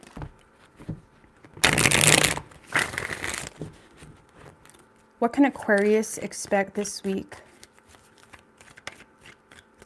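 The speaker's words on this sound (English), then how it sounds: "3 shuffles." A deck of tarot cards is shuffled in two quick riffling bursts, crisp and close, followed by someone speaking.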